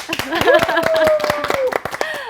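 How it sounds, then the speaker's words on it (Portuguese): A small group in a wellness talk-show studio claps in quick, sharp, rhythmic beats, close and fairly loud, while a voice talks over the clapping. "Acho que a gente merece palmas aqui, ó."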